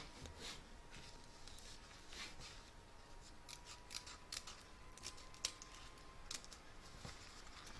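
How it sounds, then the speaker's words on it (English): Scissors trimming excess fabric on a stitched doll, a quiet, close run of repeated crisp snips and light rustling, spaced unevenly, with no talking. "You're now going to trim up the excess fabric just above the waist there."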